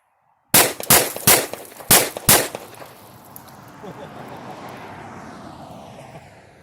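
A 10mm handgun fires five full-power rounds at a Pepsi can outdoors: five loud sharp shots in quick uneven succession, each with a short echoing tail, then fading range ambience.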